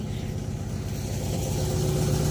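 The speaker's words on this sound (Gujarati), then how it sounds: "બોટ હવે ધીમી પડી ગઈ" A boat engine on the Narmada river near Kabirvad throbs steadily and close by, its low rumble holding for a couple of seconds and swelling slightly toward the end, with no voices.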